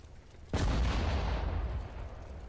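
Artillery gunfire in the WWII strategy game Sudden Strike 4: a single loud, close cannon blast hits suddenly and leaves a long, rumbling decay.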